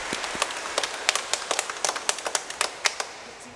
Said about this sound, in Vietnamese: chúng ta cho vỗ một tràng pháo tay chúc phúc cho hai gia đình của hai bên